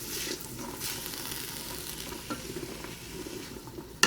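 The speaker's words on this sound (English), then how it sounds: "we're just going to stir them around and let them cook for a few minutes" Vegetables for minestrone sizzle steadily in a hot pot, with occasional soft scrapes and clinks as they're stirred.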